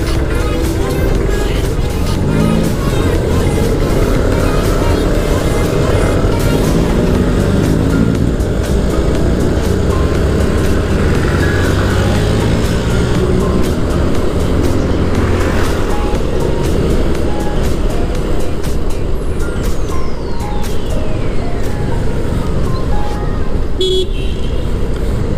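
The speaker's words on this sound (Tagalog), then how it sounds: "Nandito tayo sa MacArthur, kaso nga lang matraffic." Dense road traffic crawling along MacArthur Highway in Malabon, with steady engine rumble, passing vehicles and occasional horn toots continuing loudly for the whole stretch.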